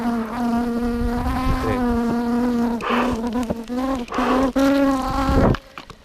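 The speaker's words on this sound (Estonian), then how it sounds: "kuulen, kuidas igalt poolt ümberringi käib ainult üks mesilas sumin" Thousands of honeybees swarm around a beehive, their dense, continuous buzzing loud and close throughout, with several individual bees droning nearer and then receding.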